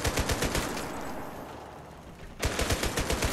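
A Bren light machine gun in a competitive 1v1 shooter video game fires rapid, evenly spaced rounds in two loud bursts, separated by a quieter stretch of lingering noise.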